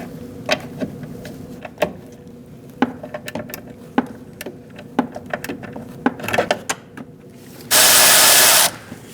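A 13mm socket works loose the nut on a brake master cylinder of a 2004-2012 Chevrolet Colorado, giving a run of sharp metallic ratchet clicks and taps, with a brief loud whirring burst near the end.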